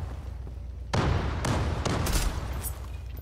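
Gunfire in the online shooter game Zula, a few sharp close shots and bursts cutting through low background game noise over about three seconds.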